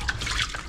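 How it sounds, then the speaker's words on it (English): Cold well water runs from a tap for rinsing and kneading a clump of fresh homemade butter on an Alaska homestead, a steady close splashing trickle with no talk. "This is straight from our well, so it's cold, cold, cold water."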